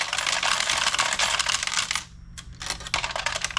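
A Pachislo slot machine pays out a jackpot in a loud, dense rush of coins clattering into a tray. The flow stops for a moment, then the metallic jingle resumes.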